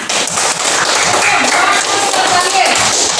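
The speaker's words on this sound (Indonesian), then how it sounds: "Oke, tepuk tangan." A classroom group applauds together, a dense burst of many hands clapping at once that stays loud and steady throughout.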